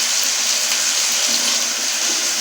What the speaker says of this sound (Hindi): इसमें मामूली तकरीबन आधा कप के करीब पानी ऐड करेंगे